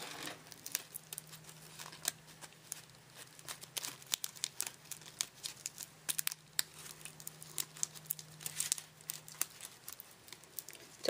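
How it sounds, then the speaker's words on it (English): Clear tape crinkling and tearing while it is wrapped around a dryer-sheet flower and bamboo skewer, a series of close, sharp crackles and rustles at irregular intervals over a faint low hum. "add another tape at the very edge where it meets the bamboo"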